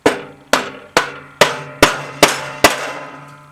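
A bearing being hammered into its seat on a Craftsman riding mower: seven sharp, ringing metal strikes at a steady, slightly quickening pace, loud and close, with no talk.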